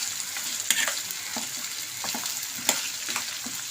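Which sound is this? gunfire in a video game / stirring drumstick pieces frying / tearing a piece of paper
stirring drumstick pieces frying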